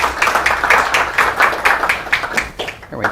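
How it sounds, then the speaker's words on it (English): A crowd gives a round of applause for a lecture speaker, loud and close, with distinct bursts of clapping pulsing at a fairly regular rhythm before tapering off. "nice round of applause for Rosa Koire"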